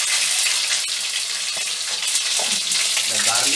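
Ginger garlic paste dropped into hot oil crackles and sizzles loudly, with bright spattering pops and a dense hiss close by, no voices.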